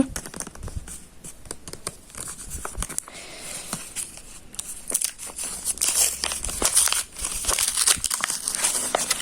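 Crisp crinkling and rustling of a plastic-paper packet being handled and torn open, continuous and close, with irregular crackles throughout.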